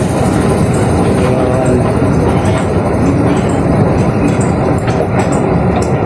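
The train at Ocean Park, Hong Kong, rumbles loud and near with a steady low roar and faint rail clatter throughout.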